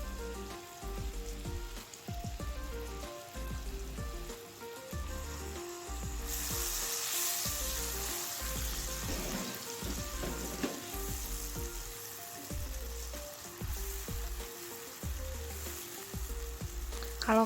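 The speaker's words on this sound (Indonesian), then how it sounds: "kita masukin bumbu-bumbu ulek tadi ya, kemiri, bawang merah, bawang putih, tomat, dimasukin, tumis sampai harum." Ground spice paste of candlenut, shallot, garlic and tomato sautéing in a pan for chayote sambal goreng with egg, a steady close sizzle and frying hiss throughout, with rhythmic low scraping knocks from stirring and no talk.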